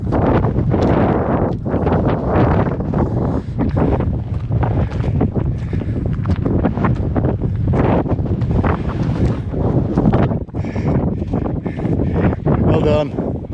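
Strong, continuous wind buffets the microphone on a mountain walk up Montana Roja near Playa Blanca, Lanzarote, a loud steady roar with gusty swells and people speaking underneath.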